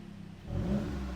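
An MK8 GTI fitted with an AWE exhaust gives a brief, close rev that rises quickly toward 4,000 RPM, a short swelling engine note.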